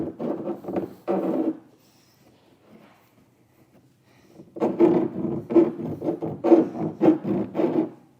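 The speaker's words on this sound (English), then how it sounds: "I come back through with something like a file or a razor knife and just try to clean up those edges. so you don't have any plastic burrs." A file or razor knife scrapes plastic burrs from the cut edges of a 2018 Honda Odyssey bumper panel during a hitch install, in short rasping strokes: a few at first, a pause, then a steady run of close strokes.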